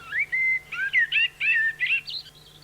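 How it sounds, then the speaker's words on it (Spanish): La Gomera chaffinch (pinzón tintillón) singing in the laurel forest of Garajonay on La Gomera, Canary Islands: a short, clear run of bright whistled and chirping notes, close and loud, with a steady low hum beneath. "Esta que vemos es una raza del pinzón tintillón,"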